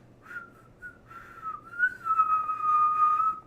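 A person whistling a short tune alone, with a few brief notes at first and then longer sustained pitches that rise and slide, close and moderately loud.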